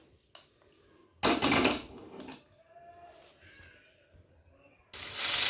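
A pressure cooker of lentils on a gas stove lets off several loud, bursting hisses of steam close by, with quieter gaps of softer sputtering between them.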